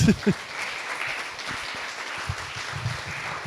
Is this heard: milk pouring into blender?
no